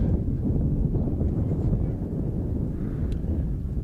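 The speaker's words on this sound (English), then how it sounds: "Starting to get pretty windy" Wind buffets an open microphone high in a stadium press box above a high school soccer match, a steady low rumbling roar that persists throughout with no clear gusts.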